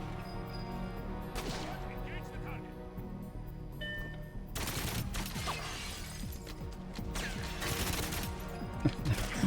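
Gunfire in GoldenEye 007: Reloaded, with sharp shots and bursts among shattering impacts, heard under game sounds and talk.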